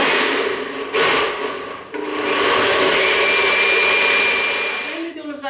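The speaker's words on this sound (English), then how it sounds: "And now I'm just going to blend these ingredients together." A kitchen blender runs loud and steady as it purees stock with roasted pumpkin risotto ingredients, its motor pitch dipping briefly twice before the whirring settles and then cuts off near the end.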